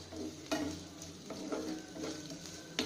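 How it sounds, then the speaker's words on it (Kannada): Masala for masala puri frying and being stirred in a pan: a close, steady sizzle broken by the scrape and clack of a spoon at irregular intervals. "ಫ್ರೈ ಮಾಡ್ಕೊಳ್ಳೋಣ ಒಂದು ಐದು ನಿಮಿಷ"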